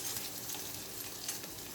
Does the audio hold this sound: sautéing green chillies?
yes